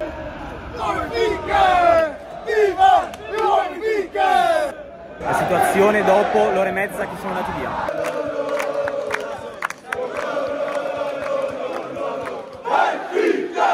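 Benfica football fans chanting loudly in the city streets before a Champions League away match, rhythmic massed voices rising and falling, with someone talking over the crowd in places.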